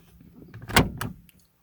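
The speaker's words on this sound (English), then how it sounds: "lock all the doors using the power door lock switch" Nissan power door locks engage on all doors at once, giving a loud mechanical clunk followed by a second, lighter thunk a moment later, heard close up inside the car with no talking.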